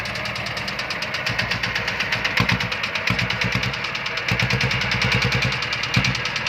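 Engine of a Thai rot e-taen farm vehicle running steadily close by, a loud rhythmic chugging idle with a knocking beat that continues alone throughout.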